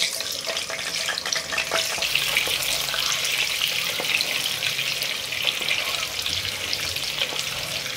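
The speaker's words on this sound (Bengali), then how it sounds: "এই একই তেলে আমি ডিমগুলো হালকা করে ফ্রাই করে নেব।" Eggs frying gently in hot oil in a kadai, kept for a chicken biryani, with a steady dense sizzle and crackle close by, running unbroken and without any talk.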